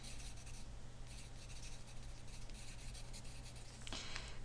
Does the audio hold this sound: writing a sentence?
yes